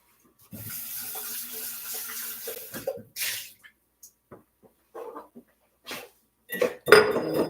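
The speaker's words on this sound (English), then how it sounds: "then I'll rinse out the cup" Water runs from a tap and splashes inside a cup as it is rinsed, a steady close rush broken by short clinks and swishes, then brief bursts of pouring near the end.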